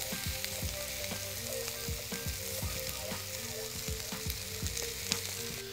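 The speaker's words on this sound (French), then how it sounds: "Nos saucisses d'agneau commencent à colorer" Lamb sausages sizzle steadily on a hot plancha, a dense continuous frying crackle with soft intermittent pops and stirring taps, close and even throughout.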